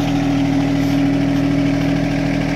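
A John Deere tractor's engine runs steadily at a constant idle, a loud continuous mechanical drone with no pauses and no voices.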